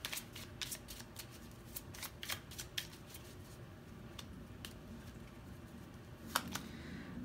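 Tarot cards shuffled and drawn by hand for a pick-a-card reading, a steady run of soft riffling and sharp snapping flicks, close and fairly quiet, with no talking.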